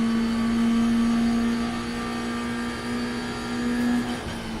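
A race car engine in the iRacing simulator holds a steady high drone with slight rises and dips in revs, loud and continuous, with no talk over it.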